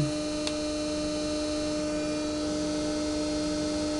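Prototype pulse motor generator with a coil, running under a 3 watt load: a steady electrical hum with strong tonal lines, continuous and even, close by with one brief click near the start and no talking.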